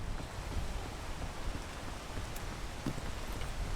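Steady rain hissing in the video game PEAK, a soft continuous wash of broadband drizzle at moderate level with no voices over it.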